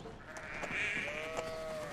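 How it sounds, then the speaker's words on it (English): Sheep bleating in a TV drama scene, a drawn-out, wavering nasal bleat that rises to a strong peak at mid-clip and fades, heard fairly close with no talk over it. "There's your sheep, Joel."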